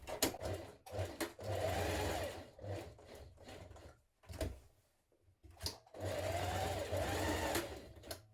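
A domestic sewing machine stitches reinforcement along a coat collar corner in several close bursts of fast needle clatter, separated by short pauses and quiet handling of fabric.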